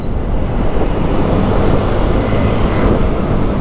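A Yamaha Aerox 155 VVA scooter engine roaring under hard acceleration, a loud, dense, continuous rush that holds at full volume throughout without a break.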